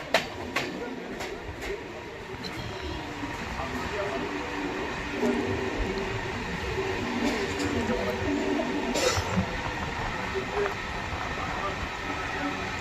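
An Etawah–Tundla MEMU train runs fast toward Badhan station to overtake, a steady rolling rumble and hiss with faint clicks throughout and a brief burst of noise near the end.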